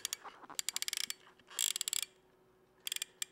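A plastic Diana camera winds its 120 roll film to the next frame with rapid bursts of dry ratcheting clicks, three separate winding strokes, close and crisp against a quiet background.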